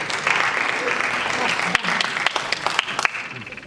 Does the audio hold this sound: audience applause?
yes